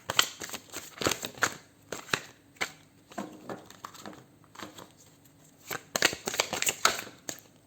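Tarot cards shuffled for a reading, giving crisp riffling bursts and slaps in several rapid clusters with quieter flicks between, close and fairly soft.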